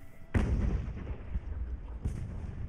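Mortar and artillery fire during an Age of Sail naval battle in the game Ultimate Admiral: Age of Sail, with two sharp booming reports. The first is loud and near, the second comes later and is slightly softer, each followed by a rumbling tail.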